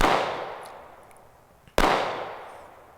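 Staccato CS pistol fired at a shooting range: one loud, sharp crack at the start and another after a short pause, each trailing off in a ringing echo, with a tiny click before the second shot.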